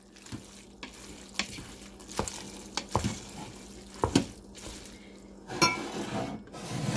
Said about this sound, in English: And I'm going to mix the whipping cream in.